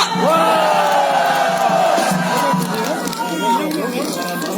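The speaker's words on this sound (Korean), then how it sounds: "정찬범 교수님을 큰 함성으로 맞아주십시오." A loud crowd roars and shouts together at a Korean outdoor political rally, a sustained dense wall of voices with overlapping yells.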